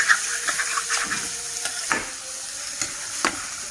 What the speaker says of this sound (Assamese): এতিয়া অকণমান ভাজিম ইয়াতে মাংসখিনি